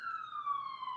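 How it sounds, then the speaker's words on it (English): A police siren wails faintly in the distance, its tone sliding slowly downward. "Please excuse the police sirens in the background."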